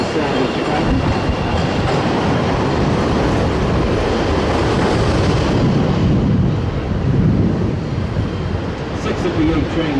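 An elevated Chicago L train rumbles overhead through the downtown area, a loud continuous roar of wheels and steel structure that swells and persists for the whole stretch, heard from street level.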